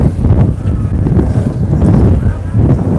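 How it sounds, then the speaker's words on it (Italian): Strong wind buffets the microphone outdoors in Barcelona at sunset, a constant loud low rumble that surges and dips without a break for the whole stretch. "Il vento sarà terribile adesso."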